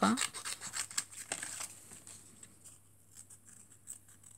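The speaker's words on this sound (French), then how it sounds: "Pareil, je reviens découper tout autour." Scissors cutting around the edge of a handmade wood-stamped greeting card give a close run of crisp snipping and scraping, busiest at the start and then thinning into light rustles.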